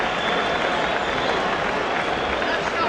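A boxing crowd at a women's bout between Laila Ali and Kendra Lenhart applauds and cheers at the bell after a round, a dense, steady roar of clapping and voices with a commentator talking over it.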